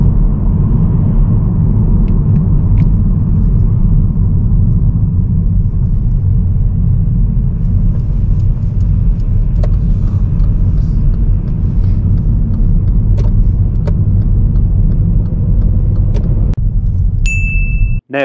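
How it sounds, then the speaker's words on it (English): A car on a driving test rounds a roundabout, a steady close engine and road rumble with tyre noise running throughout, a few faint clicks on top, ending in a brief chime and an abrupt cutoff. "As we are turning right at this roundabout, Jay should have applied the right signal on"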